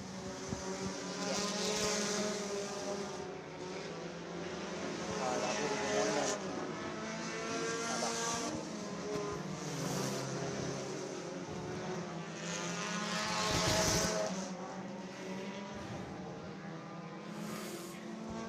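A group of race cars rolls out onto Screven Motor Speedway during a winter practice and qualifying event. Their engines drone in a steady, distant, rising and falling roar that carries on throughout.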